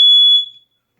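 A household smoke detector being tested, sounding one sharp, shrill electronic beep that holds briefly and then fades out within a second, close and loud.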